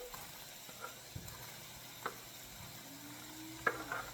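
Chopped vegetables go into ground meat frying in a pan, a faint steady sizzle with light scraping and clicking stir sounds scattered throughout.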